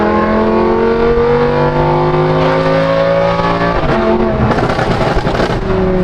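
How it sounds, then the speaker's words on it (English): A Lamborghini with an F1-style exhaust revs hard and loud, its pitch climbing steadily in a rising wail before surging and settling, close and continuous. "Dude, it's so loud it set off my watch."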